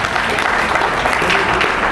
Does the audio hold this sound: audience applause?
yes